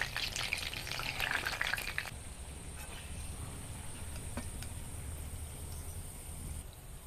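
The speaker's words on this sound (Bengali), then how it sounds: "তালের ফুলরিগুলো আমি লাল লাল করে ভেজে নিয়েছি।" Palm fritters sizzle and bubble as they fry in hot oil, a steady close crackle that is busier at first and then settles into a quieter fizz, with no talking.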